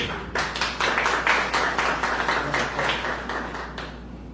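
An audience claps at a Brazilian cultural gallery evening: steady, dense applause of many hands at moderate distance, holding evenly for several seconds before thinning out.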